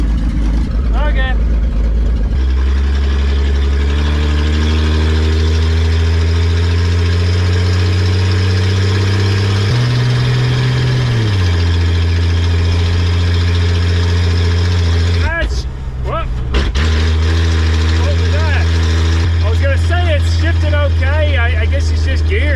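A 1982 Ford Econoline van, after sitting ten years, idles loudly and close with a steady deep engine drone that dips and shifts briefly in pitch, with brief interruptions and someone speaking over it at times.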